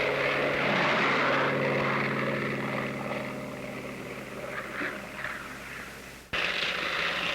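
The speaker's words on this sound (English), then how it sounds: "The Navy Bearcat seemed to be all propeller and engine." A Grumman F8F Bearcat propeller fighter plane's engine drones loudly and steadily, with strong harmonic buzz, easing slightly before a sharp shift near the end.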